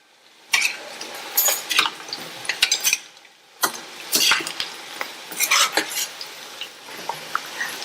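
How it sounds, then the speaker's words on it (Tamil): Vegetables sizzle in oil in a pan over medium heat while a spatula repeatedly scrapes and tosses them, giving close, loud bursts of clinking and stirring with brief pauses between strokes. "மீடியம் ஹீட்லயே வச்சு நல்லா இந்த மாதிரி பிரட்டி பிரட்டி விட்டுருங்க"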